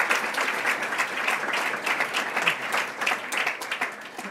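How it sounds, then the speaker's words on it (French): Warm applause from a live audience, a lively mix of many hands clapping at close range, steady for a few seconds. "Ouais, on peut les applaudir."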